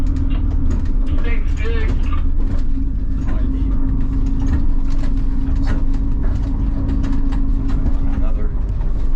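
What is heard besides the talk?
inside a moving tour bus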